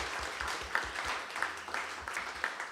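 An audience at a live music show applauds the performers with a dense, steady crackle of many hands, sustained throughout at a moderate level with a few louder individual claps.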